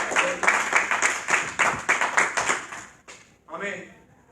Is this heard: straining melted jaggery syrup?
no